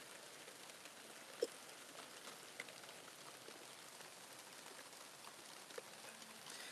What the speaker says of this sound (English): You can see it's starting to rain.